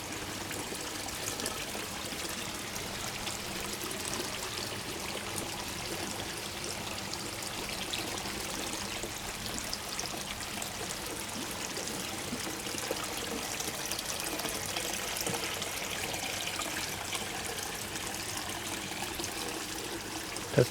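Water trickling steadily into a small garden pond next to a patio, a continuous close babbling stream with no pauses and no talk.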